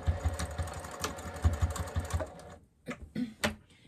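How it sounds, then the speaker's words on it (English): A sewing machine stitches around the edge of an upcycled dog bed in a quick, rattling run of needle strokes, close and moderate, then slows to a few scattered clicks. "And I'm just stitching my way around, making sure that I'm catching both sides of it"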